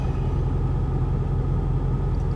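Lowered car driving over rough New York streets, a continuous low engine rumble and road noise, steady and close with no talking.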